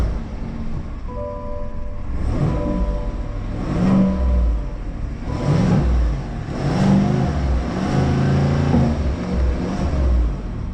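A 2025 Chevrolet Silverado LTZ pickup with a V8 engine starts and revs nearby, giving a deep rumble that swells in several repeated throttle blips over a steady idle.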